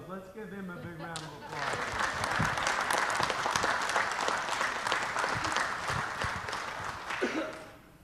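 Audience applause at a city council meeting for a mayor who was credited with 750,000 meals. A voice speaks briefly before a broad burst of clapping that swells, holds steady for several seconds, then tapers off as talk returns.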